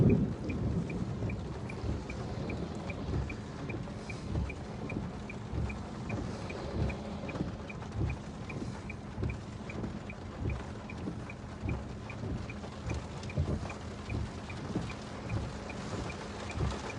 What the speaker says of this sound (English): This is a severe thunderstorm.